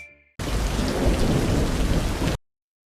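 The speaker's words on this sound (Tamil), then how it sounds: "காலை முதல் தஞ்சாவூர் மாவட்டம் கும்பகோணம், திருவிடைமருதூர் உள்ளிட்ட அனைத்து பகுதிகளிலும் விட்டு மிதமான மழை பெய்தது" Steady, dense northeast monsoon rain falls in Kumbakonam, Thanjavur district, a loud uniform hiss of rain on surfaces that starts abruptly and stops abruptly after about two seconds.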